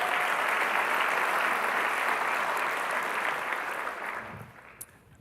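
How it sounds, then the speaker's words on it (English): An annual meeting audience gives a round of applause for a speaker named Al: dense, steady clapping that fills the room, then tapers off and fades out near the end. "Can we get a round of applause one more time for Al?"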